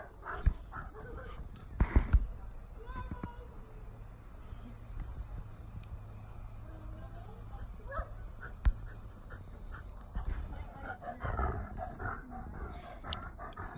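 Dog playing fetch barks on command: a few short, sharp barks near the start, then whimpers and yips, with quiet handling noise throughout.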